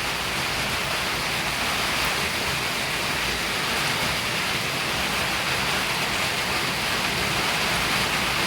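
Heavy rain pours down over a village road and houses, a dense, loud and continuous hiss of rainfall on surfaces with no break and no voices.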